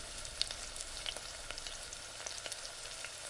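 Onions cook in a covered pan with a soft, steady sizzle and faint crackling pops, quiet and continuous with no voices.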